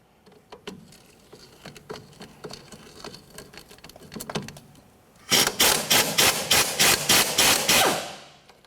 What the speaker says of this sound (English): Remove that bolt.